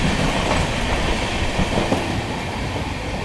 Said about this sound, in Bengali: মারাত্মক লেভেলের ট্র্যাক সাউন্ড।